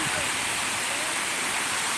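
Waterfall at Lembah Anai, a steady broadband rush of falling water, loud and continuous throughout with no clear pauses.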